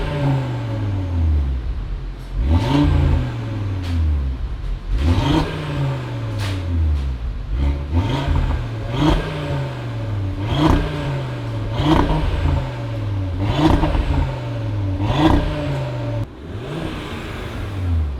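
A 2025 Audi RS3 five-cylinder engine with mid pipes revs repeatedly, each blip rising to a loud, raspy exhaust note and falling back, about seven pulls in a steady rhythm, close by.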